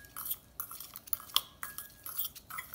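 A utensil stirs baking soda into food in a pan with soft, irregular scrapes and light metallic clinks, quiet and close.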